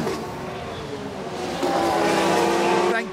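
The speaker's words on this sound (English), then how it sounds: "There's been a crash. Sounds like a single car." Single race car crash in the F1 Manager 2022 video game, an Alpine car: a sustained engine and tire noise that swells louder midway, then cuts off abruptly near the end.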